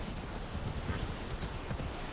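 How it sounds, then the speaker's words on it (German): Hooves of a summoned horse galloping in the video game Immortals Fenyx Rising, a steady rapid clip-clop rhythm running throughout at moderate level with no voices. "Dieses da, unser Pferdchen. Das haben wir nämlich schon lange nicht mehr beschworen."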